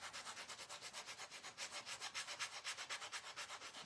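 A small wooden craft hat being sanded by hand, a steady back-and-forth rasp of sandpaper on wood in an even rhythm of about six strokes per second, close and alone.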